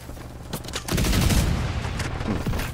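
Rapid gunfire erupts in a shooter video game, a dense burst of close, loud shots following a quieter opening, continuing as crackling volleys to the end.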